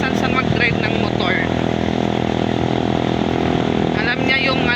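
Motorcycle riding along a road and weaving through traffic past trucks, its engine droning loud and close throughout, with voices talking over it now and then.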